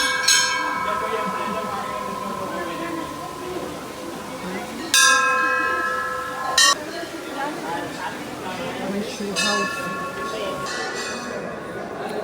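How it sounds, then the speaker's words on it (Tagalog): A bell at the entrance of a hand-carved BAPS Hindu temple in the UAE rings with a few bright, ringing strikes that decay slowly, heard over steady crowd murmur and a close voice speaking. "papasok na kami sa loob at magriring muna ako ng bell"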